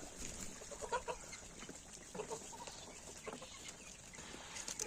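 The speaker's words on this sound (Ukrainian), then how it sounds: "Ну і ось такі дивіться гуси, які величезні." Large geese honk and cackle in scattered bursts, some overlapping, at moderate distance over a steady farmyard background.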